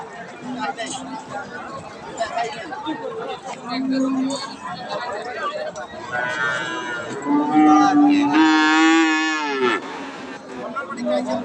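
Holstein Friesian heifers and calves on a cattle farm, with a near, drawn-out moo rising near the end over continuous talk and crowd chatter.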